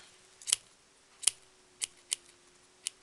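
Small scissors snip through paper while trimming a little fringe on a tiny pen-topper doll, five crisp, close cuts at uneven intervals with quiet pauses between, no talking.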